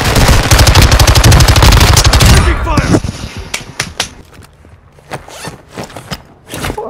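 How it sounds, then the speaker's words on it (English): Rapid automatic gunfire in Call of Duty Warzone 2.0 rattles loud and close for about three seconds, then gives way to scattered single shots and sharp cracks at varying distances. "Taking fire!"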